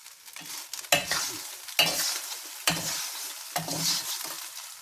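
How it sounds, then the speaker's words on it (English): Spaghetti noodles sizzle and hiss in a hot pan during stir-frying for pancit, with repeated scraping stirs every second or so, close and steady. "There I put the noodle on the pan. Yes, on the hot pan, and then stir"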